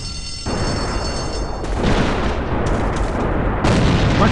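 In the shooter game AVA, a thrown grenade goes off with a loud, sustained booming blast. The explosion rumbles on for several seconds with swells of debris and gunfire-like crackle.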